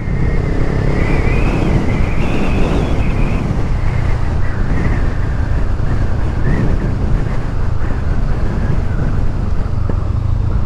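Strong, steady wind buffeting the microphone on a roadside stop along the Aurora to Isabela road, a loud continuous roar that fills the whole stretch with no speech heard.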